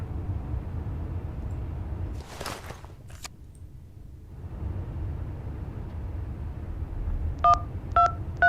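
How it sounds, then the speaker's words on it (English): Telephone keypad tones sound as a number is dialed in the mystery video game Hitchhiker, with a few clear beeps near the end, following a low rumble and a couple of brief clicks. "Dial the number."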